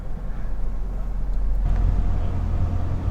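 A 2022 Toyota Tundra engine runs under light throttle while backing up with a trailer, a loud low rumble that swells and deepens partway through, steady and close.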